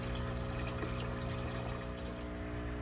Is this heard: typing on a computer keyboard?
no